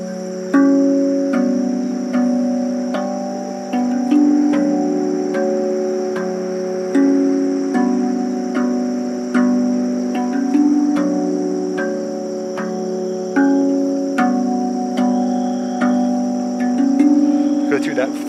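A RAV Vast steel tongue drum plays a melody with both hands, ringing metallic notes struck in a steady rhythm, each one sustaining and overlapping the next, clear and close.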